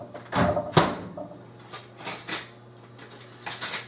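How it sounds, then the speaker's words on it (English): Cornbread mix being stirred in a bowl, with a few sharp utensil knocks against the sides and softer scraping strokes in between, close and fairly quiet with no talking. "Alright, I'm going to stir all this together."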